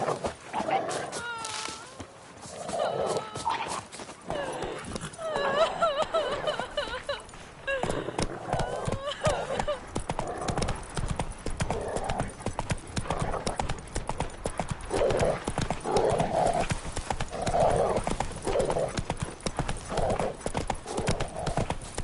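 Horse hooves clip-clop at a steady gallop through the whole span in The Witcher 3, close and continuous, with an occasional neigh over the pounding rhythm.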